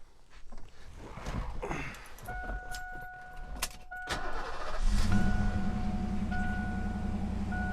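A 1988 Mustang GT with 1,794 miles, never touched: keys jingle and a door chime pings repeatedly before the engine cranks, fires and settles into a steady, close, rumbling idle.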